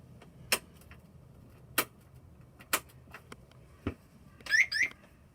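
An Ecooter E2R electric scooter that will not start gives short sharp beeps or clicks, four spaced about a second apart, then a quick double chirp near the end, faint against a quiet background with no talking.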